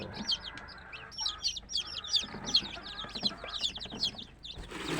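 Newly hatched chicks in a brooder box keep up a rapid chorus of high, thin peeps, steady and overlapping, close but fairly quiet, with no talk.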